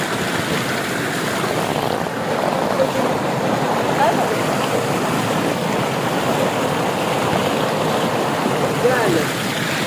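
Water falls and splashes continuously at night during a crab-catching outing, a steady close rushing wash that never lets up, with voices speaking faintly beneath it.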